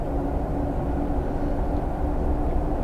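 A Class 101 diesel train runs in Train Sim 2021 with a constant engine rumble and a faint tonal hum over a broad roar. The sound stays steady throughout with no voices.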